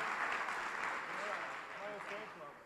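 Audience at an awards dinner applauding and cheering for a sponsor, a steady wash of clapping and crowd noise throughout with scattered whoops rising near the end.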